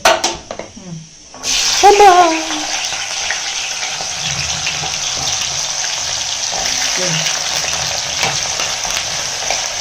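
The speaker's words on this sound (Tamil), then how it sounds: "இப்போது எண்ணெய் வச்சுருக்கேன் நல்லெண்ணெய் வச்சுருக்கேன் இப்போ இந்த இஞ்சி அதில் போட்டு நல்லா வதக்கிக்கலாம்" Chopped ginger, still wet, drops into hot sesame oil in a pan and bursts into loud close frying that settles into a steady sizzle with occasional stirring, while voices talk at the start.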